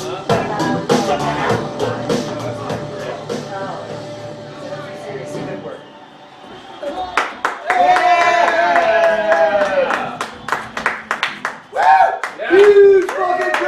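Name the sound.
crowd applauding at a live comedy show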